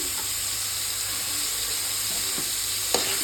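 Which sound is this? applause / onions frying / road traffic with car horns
onions frying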